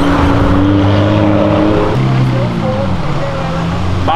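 A Corvette accelerates hard on a city avenue, its engine roaring loudly with rising and shifting tones, while a person talks over the sound.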